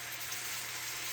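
Butter sizzles in a pan on a stove set to medium-low heat. The hiss is soft, steady and continuous, with no other sounds.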